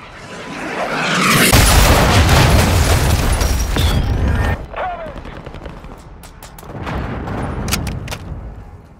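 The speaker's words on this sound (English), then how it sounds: "launched a cruise missile" A large cruise missile blast in Call of Duty: Modern Warfare II, a loud roaring explosion that swells for several seconds, then cuts off and gives way to scattered crackling and a second rumbling burst.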